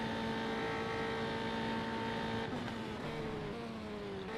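F3 race car engine at full throttle in the Automobilista racing game at Paul Ricard, a loud, sustained high-pitched drone with shifting harmonics as the pitch dips and steps through gear changes, heard alone without talk.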